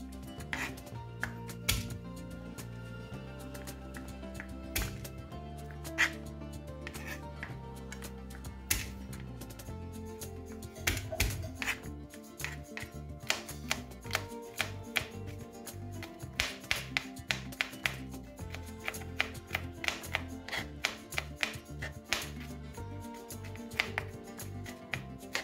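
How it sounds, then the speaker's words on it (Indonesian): Garlic cloves crushed and then minced with a knife on a cutting board, a long series of quiet, sharp taps and knocks that start sparse and grow into quicker, denser chopping, with no talking. "Ini aku mau geprek dulu bawang putihnya."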